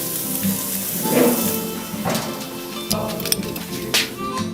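Steak and potato roasting on an outdoor grill, a soft steady sizzle with small crackles and a few light clinks in between.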